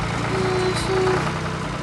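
A red Zetor tractor pulling a trailer loaded with crops in the Bear Farm game, its engine a steady, loud low drone with an even hum and no pauses.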